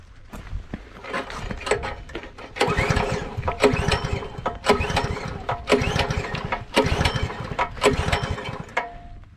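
Repeated pull-start attempts on a Dro-Masz DRB90C plate compactor engine: a series of rough mechanical rattling bursts and cranking strokes with brief gaps, close and fairly loud, without a steady running engine.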